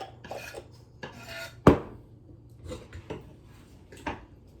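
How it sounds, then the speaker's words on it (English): A spoon scrapes and clatters against the metal inner pot of an Instant Pot while garlic is stirred for carnitas, with one sharp clank standing out among several softer scraping strokes, close and alone. "Now we're going to give it a good stir."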